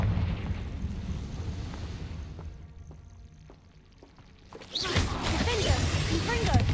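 A Confringo fire spell blasts in the Hogwarts Legacy video game, a sudden loud burst erupting after a quieter stretch of small clicks, followed by sustained crackling roar with a voice shouting over it.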